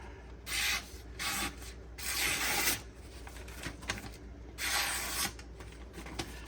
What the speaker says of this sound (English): But as you can see, completely capable. Cutting newsprint.